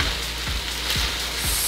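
Chicken, vegetables and fried rice sizzle steadily in a hot pan, a continuous close frying hiss with soft periodic stirring scrapes about every half second.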